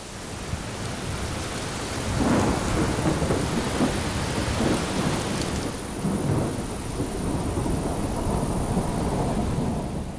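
A summer thunderstorm pours steady, dense rain with low rumbling thunder rolling through, loud and continuous across the whole stretch, with no voices.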